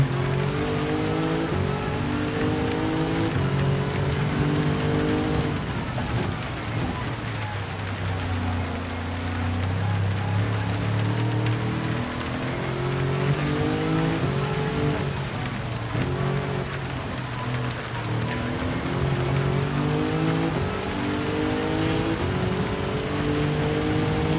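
A racing car on slick tyres in the rain in Gran Turismo 7, its engine droning and revving steadily with rising and falling pitch over a continuous wet hiss, loud and close throughout.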